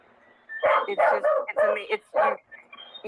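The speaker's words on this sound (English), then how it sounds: "she doesn't even attempt to tell her dog to stop barking" A dog barks repeatedly, loud and close, in a quick series of sharp barks with a few yips, while people's voices carry on underneath.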